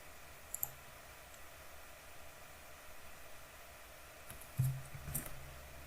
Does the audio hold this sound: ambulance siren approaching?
no